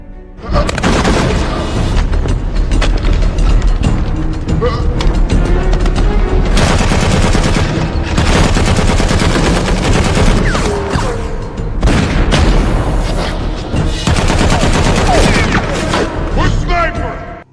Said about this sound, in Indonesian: Akhirnya baku tembak pun tak bisa terhindarkan.